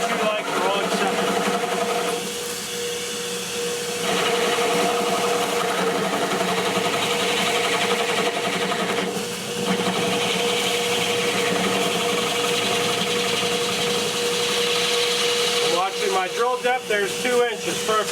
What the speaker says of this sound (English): Turn off my drill press.